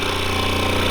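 A scroll saw cuts along a template line for a bow saw build, a loud, fast, rapid reciprocating chatter that is steady and close, with no voices.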